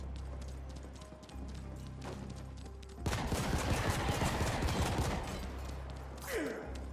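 Rapid automatic gunfire from a player's equipped gun in the sci-fi action game The Ascent, a loud dense burst lasting several seconds over a steady low background hum, then cutting off.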